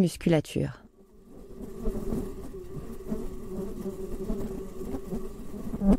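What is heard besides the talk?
fruit flies buzzing in a fly dome cage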